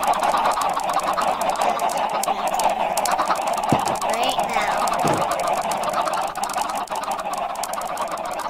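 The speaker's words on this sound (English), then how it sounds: "There's so many chickens that it's lagging up the game." Many chickens on a crowded video game chicken farm cluck and squawk steadily throughout, a dense flock chorus with occasional louder calls, under background game noise and brief talk.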